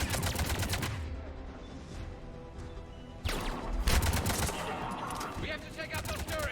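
Turret gunfire in a Mass Effect battle against Cerberus forces: dense rattling bursts mixed with sharp impacts and crashes, growing louder midway and continuing in rapid volleys.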